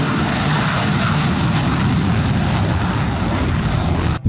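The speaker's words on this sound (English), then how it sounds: "A small, lightweight airframe, driven by an extremely efficient high-thrust engine." Roar of an F-16 jet engine in a video game flight simulator, a loud continuous broadband rumble holding steady throughout before cutting off abruptly near the end.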